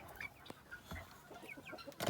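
Meat chickens at day 35 in a pen with scratch, food and water, giving soft scattered clucks and quiet chirps, faint and close, with a sharper burst at the end.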